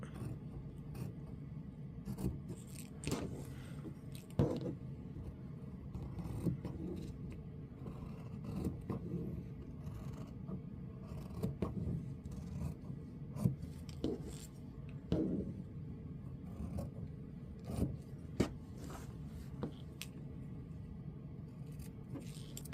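Scissors cut out a fabric sewing pattern piece with faint irregular snips, scrapes and rustles of cloth and paper repeating close by for over twenty seconds, with no talk.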